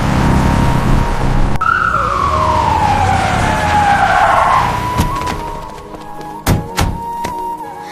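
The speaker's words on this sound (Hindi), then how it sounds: "ड्राइवर, एम्बुलेंस को थोड़ी तेज रफ्तार से स्कूल की तरफ ले चलो।" An ambulance siren wails as the vehicle speeds toward a school: a loud falling sweep that settles into a steady tone over road rumble, with a couple of heavy thuds near the end.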